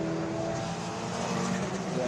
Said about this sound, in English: I think that's an Arden car making its way through too, side by side as they sprint up the hill.